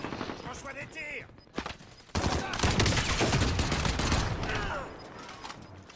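Rapid gunfire bursts in an online battle royale video game, dense automatic shots rattling over a couple of seconds, with players talking over the action.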